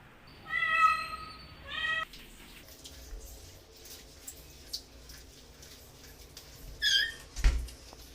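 Cats meowing close by while being bathed with soap against fleas and ticks: a drawn-out, pleading meow at the start, then quieter splashing and handling noises, and another short meow near the end.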